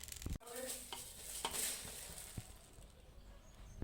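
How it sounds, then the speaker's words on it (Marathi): Spices dry-roasting in a pan for homemade chilli powder make a soft, steady crackle with occasional stirring scrapes and a few sharp utensil knocks, close but fairly quiet, with no voice. "मी आता हे एकत्र हे सर्व मसाले भाजून घेते"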